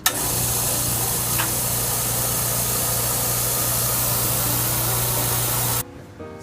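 An air compressor pump supplying an Instron testing machine runs steady and loud, a constant hiss over a low hum, then cuts off abruptly near the end and leaves a quieter room.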